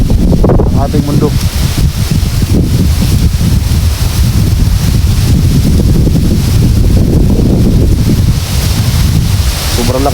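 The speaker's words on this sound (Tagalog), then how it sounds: "Sobrang lakas ang hangin." Strong wind blasting across a microphone outdoors, likely near the sea, a loud continuous roar with gusty low buffeting throughout and surf-like wash underneath.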